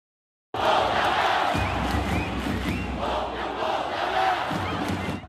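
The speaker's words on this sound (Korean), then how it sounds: "지난 10일 홍명보 감독의 대표팀 선임 소식 이후에 첫 경기가 열린 운동장에 울려 퍼졌던 야유 목소리부터 들어보시죠" A loud stadium crowd jeers and boos at a Korean national football team match, a continuous massed roar of many voices starting abruptly after a brief silence and sustained throughout.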